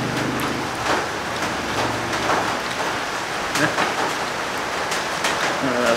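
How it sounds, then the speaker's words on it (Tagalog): Steady rain falls throughout, a dense broadband hiss with scattered drop patter and occasional louder splashes, while people talk nearby. "umuulan daw."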